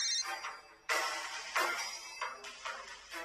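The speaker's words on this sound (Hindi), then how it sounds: "तुम्हारा फोन बज रहा है कल्याणी, उठा लो ना" A mobile phone ringtone plays close by in repeated bright electronic bursts, with no talking.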